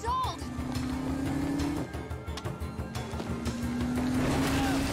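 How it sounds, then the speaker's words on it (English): An engine in an animated Legend of Korra episode cranks and fails to catch, a strained rising whine and sputter that repeats twice, heard at moderate level under a reacting voice. "No way, the engine's not starting."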